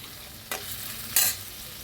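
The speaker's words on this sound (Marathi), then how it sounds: "गरम मसाला 1 चमचा, भाजून घेऊया." A spoonful of garam masala dry-roasted in a pan, a soft low sizzle broken by two sharp scraping stirs of a spoon, the second brighter and louder.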